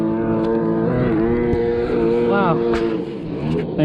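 A heavily modified triple-swap 1200 Superjet jet ski engine roars loud and steady, with a strong tonal drone that rises and falls in pitch briefly near the end.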